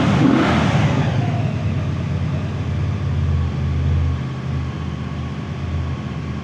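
Close, steady idle of a Voge CU 250 V-twin cruiser motorcycle, a continuous low grunty rumble, loud at first and easing slightly, with no talking.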